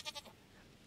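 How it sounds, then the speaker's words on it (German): A short, faint goat bleat from the Stardew Valley farming game: two quick wavering pulses that fade into a soft tail, with no talk. "Eine Ziege"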